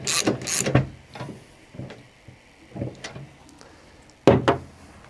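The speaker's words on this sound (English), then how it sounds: "And then back with the 17mm, just secure that nylock nut." Ratcheting clicks and metallic knocks from a 17mm wrench securing a nylock nut on a Cobra Fortis turf rake being assembled, arriving in short close bursts separated by quiet gaps.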